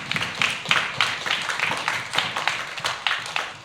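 Church congregation at a Sunday youth service applauds with steady, moderate clapping from a room of people, rhythmic and sustained for several seconds without speech.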